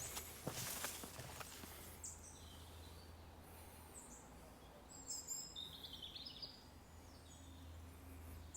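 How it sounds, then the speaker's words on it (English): Small birds chirp and sing in scattered bursts beneath a large rock on a rocky valley trail near Zurrieq, Malta, with soft footsteps and faint ambient hiss throughout. "here the birds are"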